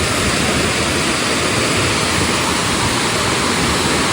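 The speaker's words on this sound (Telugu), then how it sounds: "నారదా ఫాల్స్" Narada Falls at Mount Rainier roars as a loud, steady, broadband rush of falling water, close and unbroken throughout with no voices over it.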